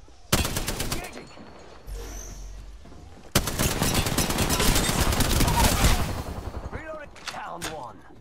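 Automatic gunfire from an Apex Legends match, loud and close, in rapid bursts that open sharply and then run as a sustained dense fusillade, with brief gaps and a voice speaking between the volleys.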